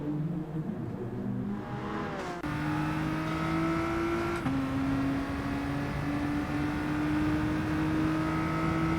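BTCC touring cars racing in GT Sport, a steady engine drone with rising whining gear tones that shift at each upchange, moderately loud and continuous, with no talk over it.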